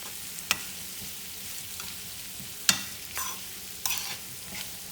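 Brussels sprouts being stirred with seasoning in a pan, giving a soft steady sizzle with a few sharp utensil scrapes and clacks spaced through it; no talking.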